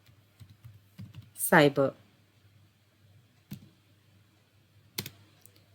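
Sparse clicks of a computer keyboard as a command is typed in a Kali Linux terminal, a few isolated taps spread out in a quiet room, with a brief spoken word in between.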